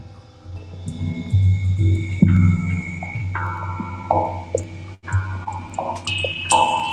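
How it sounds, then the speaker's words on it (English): A synthesizer pitch loop run in a studio setup sweeps through bright, glassy tones that slide down and jump back up over a droning low note, loud and close with a brief dropout near the end. "So the pitch loop sounds like this."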